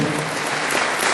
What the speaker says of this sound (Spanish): el aplauso respectivo para el doctor